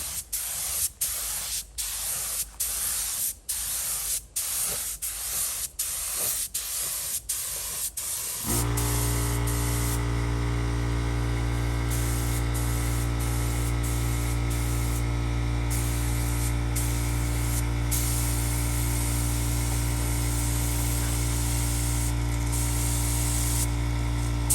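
A spray gun lays primer onto a 1973 VW Beetle Volksrod chassis, starting with a string of short, sharp bursts before settling into one long, steady, loud hiss with a constant compressor-like hum underneath.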